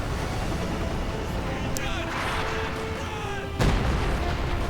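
A German howitzer firing in a real-time strategy war game, with one sharp, heavy boom near the end over constant battle noise while a commentator talks throughout.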